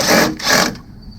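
An impact wrench fires in two quick bursts removing 10 mm screws from the ECM/PCM during a 2014 GMC Acadia 3.6L timing chain job, loud and close.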